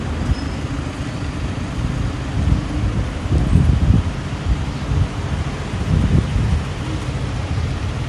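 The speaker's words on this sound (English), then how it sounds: "very windy today" Steady wind buffets the microphone on a city street walk in Phuket, a continuous low rumble with gusts that swell around the middle and again near the end, with no voices.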